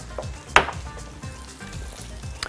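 Chopped onions and bacon sizzle steadily in a frying pan, with a sharp utensil knock early on and another near the end as the food is stirred; no one speaks.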